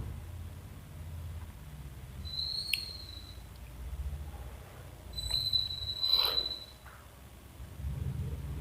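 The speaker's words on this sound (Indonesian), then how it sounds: "suara burung" A bird gives two or three thin whistled calls against a low steady background rumble, with no voices in between.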